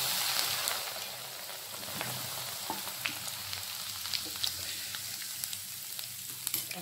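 Herbal paste from a mixer jar frying in hot homemade hair oil over a medium flame, a steady broadband sizzle with soft crackles and occasional sharper pops throughout, no voices.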